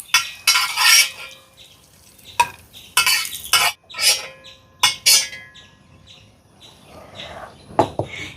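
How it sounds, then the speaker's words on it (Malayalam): Ghee-fried raisins are scraped and spooned from a pan onto a plate: a series of sharp metal clinks and scrapes in uneven bursts, close and fairly loud, with a faint sizzle between them. "അപ്പോൾ നമ്മളിതാ ഒരു പ്ലേറ്റിലേക്ക് മാറ്റി കൊടുക്കാം കേട്ടോ"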